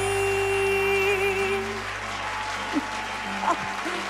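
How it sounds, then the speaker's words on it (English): An audience claps steadily through a television music show while a sustained sung or played tone lingers over it, with a couple of brief vocal sounds near the end. "Don't you clap a long time?"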